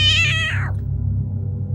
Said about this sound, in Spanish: él correspondía con salvajes maullidos e intentos de ataque